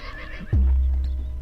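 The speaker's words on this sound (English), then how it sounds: "Got our baby horse now." A baby horse neighs in the video game Dwarf Fortress: one loud, close whinny that starts abruptly and holds steady for about a second, alone with no talking.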